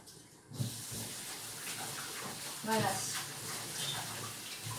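Tap water runs steadily as chicken thighs are rinsed under it, a soft continuous hiss with a brief splashy burst midway, while a voice speaks briefly.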